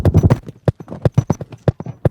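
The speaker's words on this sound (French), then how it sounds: "en découpant des petits bouts des chevaux en train de courir, on peut faire des petits roulements" Short snippets of running horse hooves cut into quick rolls: a dense flurry of close clip-clop hits at first, then spaced, even beats, loud and without speech.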